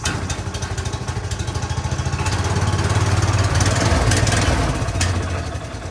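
A Honda GX390 small engine on a UTV runs after the choke is pushed in, its rapid even chugging pulses swelling louder as it is given gas, then easing back, close and loud.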